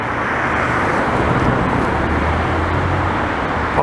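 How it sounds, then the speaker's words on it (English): A car passing on a suburban boulevard in Longueuil, Quebec, a steady, fairly loud broadband road rumble with a low engine drone holding throughout, no voices. "What's that car there?"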